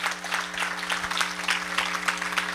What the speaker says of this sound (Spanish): Démele palmas a Dios por las cosas lindas que Él ha hecho en tu vida entonces.